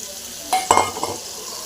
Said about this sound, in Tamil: தக்காளி சேர்த்துட்டு நல்லா ஃப்ரை ஆகட்டும்